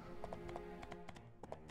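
Rhythmic hoof clip-clops from a trotting horse in the video game My Time at Portia, steady taps over a constant synthetic music bed.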